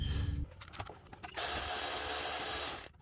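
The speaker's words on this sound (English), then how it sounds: "We're gonna take off that little 10 millimeter bolt." A power tool spins out a small 10 mm bolt holding the crankshaft sensor on a 2013 Hyundai Elantra: a few short ratcheting clicks, then a steady high-pitched whirring burst lasting about a second and a half, close up.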